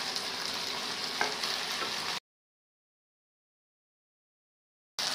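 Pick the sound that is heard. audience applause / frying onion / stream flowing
frying onion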